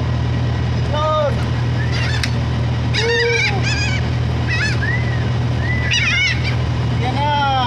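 Seagulls catching thrown food waste give repeated loud honking, squealing calls in scattered bursts over a steady low hum, with someone talking and cheering nearby.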